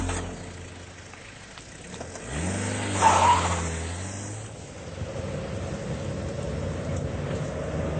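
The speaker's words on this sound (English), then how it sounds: "Here, Shifty, won't this car go any faster?" Car engine sound effect from a children's story tape, a rising rev and roar that swells to a peak then settles into a steady rumbling drive, heard alone.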